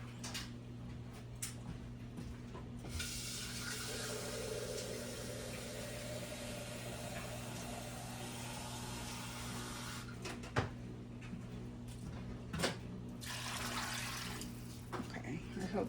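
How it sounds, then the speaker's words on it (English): Water pours into a meal prep pan of chicken, beans and potatoes at home, a steady running stream for most of the clip over a constant low appliance hum, with a few small clunks. "I'm gonna also just add some extra water in there."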